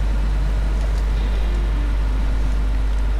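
A heavy truck engine in the SnowRunner off-road driving game drones continuously at a deep, loud, steady pitch, a dense low rumble with no pauses.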